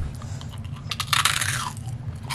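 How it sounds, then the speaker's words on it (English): Crunchy freeze-dried gummy bears bitten close up, one crisp brittle crunch rising over a low steady background hum, followed by softer chewing. "These are freeze-dried crunchy bears."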